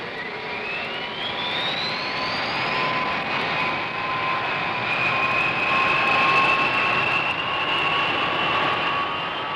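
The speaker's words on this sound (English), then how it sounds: "Everything ready, the B-52s taxi out and are soon on their way." B-52 bombers taxi out with a loud, steady jet-engine roar and a rising then sustained whine, filling the air continuously and unbroken throughout.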